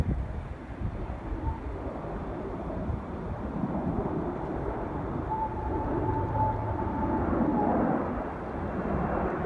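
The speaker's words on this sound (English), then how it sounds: "It's probably a little GA plane." A small general aviation plane flies low overhead near Manchester airport on an extremely windy day, a steady droning rumble with a faint engine tone, heavily buffeted by continuous wind noise on the microphone.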